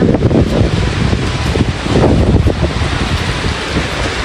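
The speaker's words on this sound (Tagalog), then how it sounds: "Talagang lumalakas na po ang hangin at ulan." Loud, dense rain and gusting wind roar together without a break, buffeting the microphone; no one speaks.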